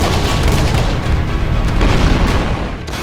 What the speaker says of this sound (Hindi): जहां बम बरस रहे हैं